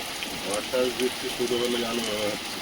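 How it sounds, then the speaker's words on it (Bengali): Steady rain hisses down on surfaces close by while voices murmur faintly beneath it. "এই বৃষ্টিটা আজকে আসলে এমনভাবে যেন বর্ষাকালে যেমন স্বাভাবিক বৃষ্টি আসে"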